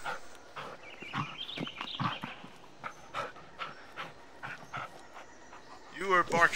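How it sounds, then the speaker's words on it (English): Bullet the dog in the Blair Witch game pants and gives repeated short barks and whimpers at close range, with a person talking over them throughout. "You are barking at something."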